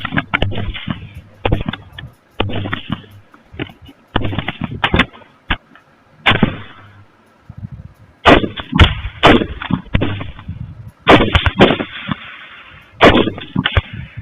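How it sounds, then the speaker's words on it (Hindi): Loud, sharp bursts of gunfire in a combat zone during the Pakistan–Afghanistan fighting, coming in rapid clusters and repeated volleys with short gaps, some cracks standing alone, with no voices audible. "फायर करो, फायर करो।"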